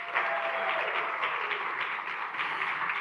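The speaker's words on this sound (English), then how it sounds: "Give a round of applause." Steady applause from an audience at a live interview event fills the whole stretch, dense and even, with a faint tonal hum in the background.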